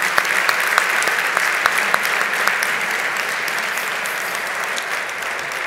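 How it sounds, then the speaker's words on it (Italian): Enthusiastic applause from a cooking show audience, steady clapping that stays loud and fairly even before easing slightly toward the end. "un applauso allo chef"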